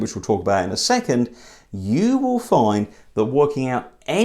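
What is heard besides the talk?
No everyday noises stand out.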